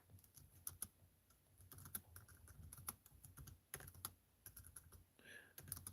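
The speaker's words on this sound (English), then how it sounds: "I'll type it for you." Fingers typing on a computer keyboard, quiet irregular clicks and taps in short flurries with brief pauses, close by and heard alone without talk.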